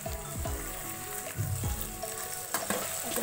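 Shredded cabbage, carrot and capsicum frying in a pan for egg chow mein, a steady close sizzle broken by a few scraping stirs, with no talk.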